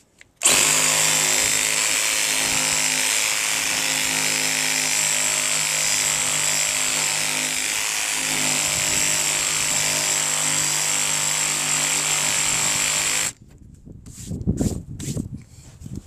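A Sawzall reciprocating saw runs loud and close, cutting Trex composite decking in one long continuous buzz, then stops, leaving scattered knocks and scraping from handling the boards.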